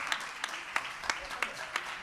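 Sparse, faint applause from the audience at a televised news-presenting contest, with a few distinct claps spaced fairly evenly over a soft background.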